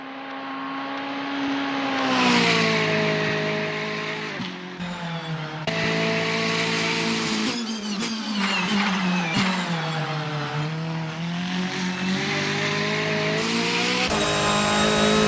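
A VW Scirocco Silhouette Vortex GC10 race car in Assetto Corsa at PGO runs an easy outlap, its engine droning loud and close, rising and falling through gear changes with brief tyre squeal.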